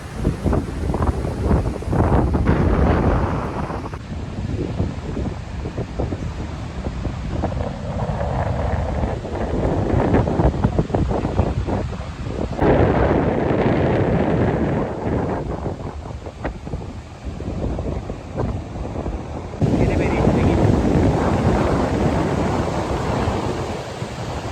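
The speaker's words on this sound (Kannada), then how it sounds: "ತುಂಬ ಗಾಳಿ ಇದೆ" Strong gusts of wind buffet the microphone on a beach in heavy rain, a loud roaring rush that surges and drops in waves over the whole stretch, with surf-like noise underneath.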